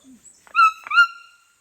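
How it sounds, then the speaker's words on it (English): A few short hooting, yelping calls of a white-throated toucan in quick succession, clear and fairly close, with a soft lower note just before them and silence after. "The white-throated toucans make this noise quite a lot."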